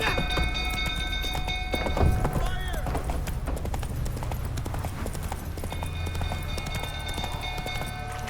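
A horse galloping in The Witcher 3, steady clip-clop hoofbeats with a brief whinny, under game music and ambient noise.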